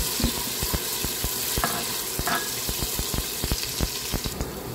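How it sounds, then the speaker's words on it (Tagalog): Potatoes and carrots stir-fried in a pan, a continuous sizzle punctuated by many sharp clicks and taps of a utensil against the pan, steady and close. "Atin po muna i-stir fry si ating patatas."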